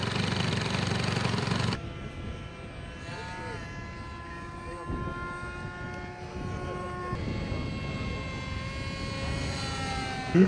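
A model airplane at a model flying show in Knesebeck passes slowly by with a steady, sustained engine tone that holds throughout, after a louder opening burst of noise.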